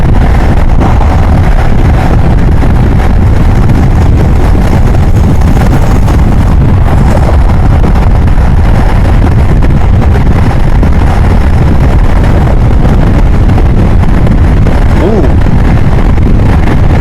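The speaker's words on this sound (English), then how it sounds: "It's the gusts of wind that are hard." Strong wind buffets the microphone in a continuous loud roar, rising and falling in gusts over the engine drone of a Honda Grom motorcycle riding at about 35.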